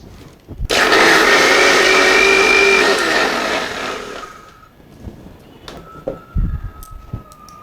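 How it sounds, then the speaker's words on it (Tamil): A kitchen mixer grinder blends curd, sugar and water for lassi in a loud, close whirring burst of about three and a half seconds that winds down, followed by clatter and handling sounds. "இப்போ வந்து மிக்சியில் அடிச்சிடலாம்."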